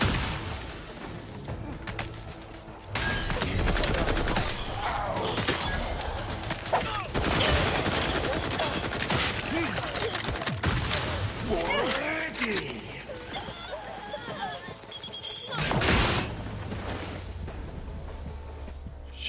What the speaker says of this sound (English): Grenades, people. And explosions.